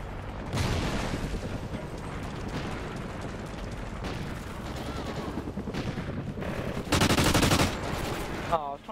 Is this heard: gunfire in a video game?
yes